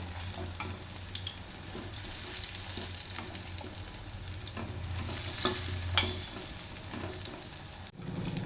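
Potato snacks frying in oil are turned one by one, giving a steady close-up sizzle with intermittent scrapes and clinks of the utensil against the pan.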